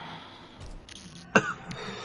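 A single short cough sounds during an online Call of Duty WW2 gaming session, a sharp burst after a quiet stretch with faint background noise.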